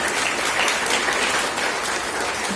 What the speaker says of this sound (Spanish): Denle un aplauso fuerte a Dios